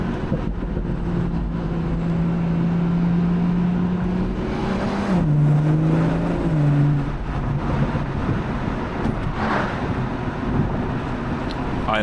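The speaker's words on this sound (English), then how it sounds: "I love the sound that this engine makes. The B58 sounds absolutely beautiful." A BMW M240i convertible's B58 engine drones steadily, revs up in pitch, then settles back down, with wind rushing in the background and no voices.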